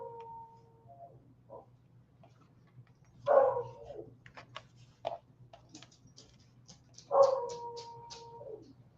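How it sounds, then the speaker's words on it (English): A dog howls in long, rising wails, broken by a few short yips and whimpers. The calls are moderately loud in a quiet indoor room, with faint ticking in the background. "there goes the dog"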